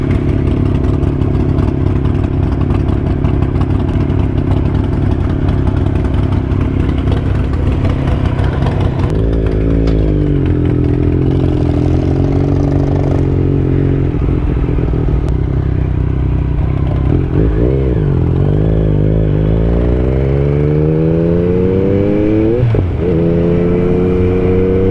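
A Yamaha MT motorcycle with an Akrapovič exhaust starts and idles, its loud, close engine rumble stepping up and down with several sharp throttle blips and revs toward the end.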